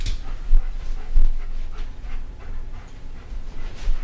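Dog panting rhythmically at close range during agility weave pole training, quick rapid breaths continuing throughout with small whimpers.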